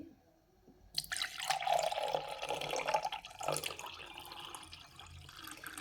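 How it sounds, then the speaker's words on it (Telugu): Water is poured into a glass, 240 ml in all, for mixing a drink powder: a steady splashing pour that starts abruptly after a second of quiet, then runs on, trickling and fluctuating, close to the microphone with no talk. "ముందుగా మనం 240 ml వాటర్ యాడ్ చేసుకోవాలి"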